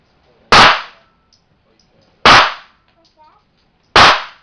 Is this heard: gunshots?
yes